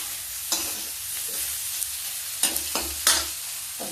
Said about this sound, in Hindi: अच्छे से भूनेंगे।